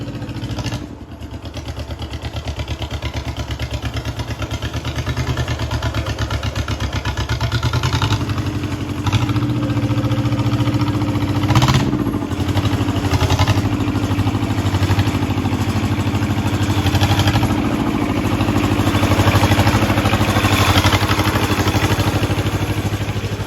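An old International Harvester Cub Cadet compact tractor engine runs steadily, a loud, close, clattering idle that thickens and rises slightly after several seconds and holds there with no talk.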